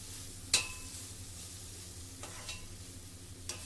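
Brinjal fries in a steel pan and is stirred with a steel spatula. A steady soft sizzle runs throughout, broken by three sharp metallic scrapes, the first loudest, with no talk.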